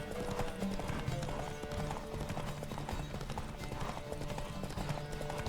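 A horse gallops in The Witcher 3 with rapid, rhythmic hoofbeats that run steadily throughout, mixed with game background music and ambience.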